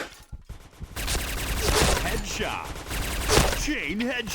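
An MP5K submachine gun in Point Blank fires in rapid bursts of loud crackling shots that run for several seconds, with someone talking over the gunfire.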